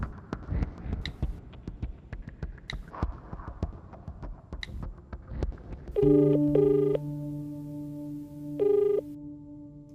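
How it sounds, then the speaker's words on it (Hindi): A mobile phone call placed in a Hindi-dubbed South Indian action romance film: a run of faint clicks and taps gives way to a clear, repeating electronic ringback tone over a low hum. "मणि को कॉल करता हूं।"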